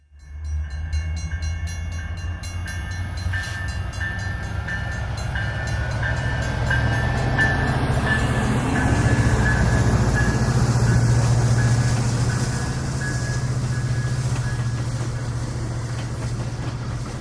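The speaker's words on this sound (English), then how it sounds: "the Milwaukee North Christmas train clears under CP Morgan with Metra 500 leading the way" A Metra commuter train led by locomotive 500 rumbles steadily past in Chicago, loud and close, with a sustained horn tone and a whine from the wheels throughout.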